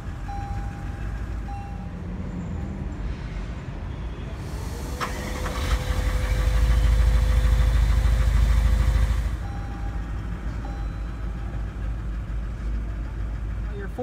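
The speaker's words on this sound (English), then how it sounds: "to start the vehicle, just put your foot in the brake and push the button to start" A 2018 Toyota Land Cruiser LC200 with a V8 diesel engine is push-button started, its low rumble swelling for a few seconds and then settling into a steady idle, with an interior chime and a voice talking over it.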